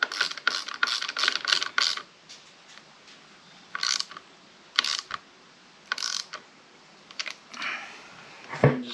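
Metal clicks as a square-hex rivet bolt is tightened with channel locks during a clutch lever install on a 2024 Yamaha MT-03 motorcycle: several quick, close ratcheting bursts early on, then sparser separate clicks.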